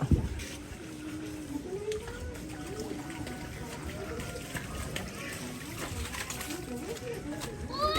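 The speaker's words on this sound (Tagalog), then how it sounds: "Ay naglilimas pala itong mga bata oh." Children bailing out rainwater after a heavy downpour, with splashing and trickling water beneath near, continuous talking and children's voices.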